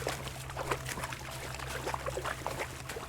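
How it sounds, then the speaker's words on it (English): Water rushes and trickles steadily in a Kingdom Come Deliverance 2 game scene, a soft continuous splashing flow with small bubbling bursts and no talking. "The water is pretty loud."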